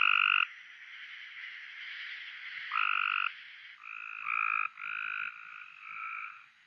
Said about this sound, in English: They have kind of a harsh-like call or trill.